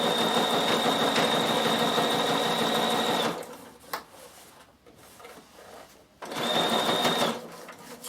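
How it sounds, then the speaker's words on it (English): A sewing machine stitches around fabric on an upcycled backpack in two close, steady bursts of whirring, with a quiet pause between them. "If I want it really nice and tidy, I will satin stitch it, make it closer. But just go around it first"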